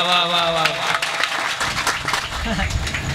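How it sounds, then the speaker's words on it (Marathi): A kirtan audience at an Akhand Harinam Saptah in Koyal claps in a dense, rhythmic patter, with a chanting voice over the start and talk mixed in throughout. "आता फक्त टाळी"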